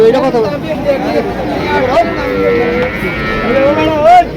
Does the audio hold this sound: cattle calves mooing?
yes